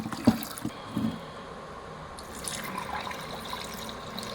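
Lentils (dal) are rinsed by hand in water, with a few splashes and sloshes near the start, then a quieter trickling and swirling of water.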